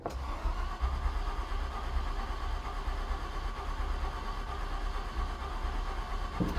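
A flooded engine in a Ford Galaxie 500 cranks steadily in a close, continuous churn that holds for several seconds without catching, with no talking over it.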